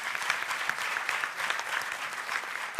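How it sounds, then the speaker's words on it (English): An audience at a Girls in ICT Day celebration in Rwanda applauds steadily for about three seconds, a dense wash of many hands clapping at even loudness with no speech over it. "Another round of applause for Ines."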